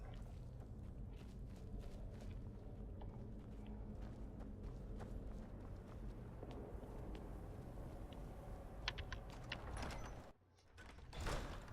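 Faint horse hooves clip-clop in the video game Skyrim, a soft, irregular series of taps over low ambient rumble, with no voices.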